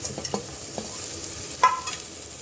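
Masala with coriander powder and a pinch of salt being stirred and sautéed in a pan for a village-style homemade mutton curry, giving a soft steady sizzle with a few scraping stirs, one sharper near the end, close and without talk.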